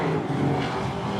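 ASA Late Model race cars roar around an oval track at I-94 Raceway on the final lap as drivers battle for second, a dense, steady engine drone with no break.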